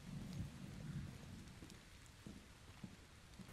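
Rain and rumbling thunder in the video game Zero Hour, a steady wash of rain with deep rolls of thunder strongest early on, at moderate distance and without voices.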